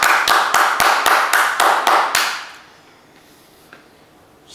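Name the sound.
audience applause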